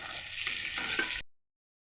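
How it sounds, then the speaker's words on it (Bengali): Oil sizzles steadily in a pan as chicken fries, with a brief stirring scrape, a continuous bright hiss that cuts off abruptly. "এবারে ভাজা ভাজা হয়ে গেছে তুলে নেবো চিকেনগুলোকে"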